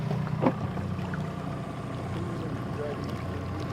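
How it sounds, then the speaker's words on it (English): A fishing boat's outboard motor runs at a steady low drone out on a lake-trout fishing trip, fairly faint under light wind, with a brief knock near the start. "Slow that motor down for me"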